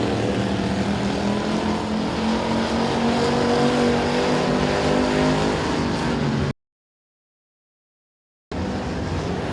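Race cars circling a dirt speedway during a heat race, engines droning loudly with rising and falling revs and overlapping passes, then a short silent gap before the roar resumes.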